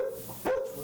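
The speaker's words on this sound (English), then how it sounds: "I heard your dog barking." A single dog's bark, short and sharp, heard over a phone line during a radio call, rising briefly above a steady low hum and faint background.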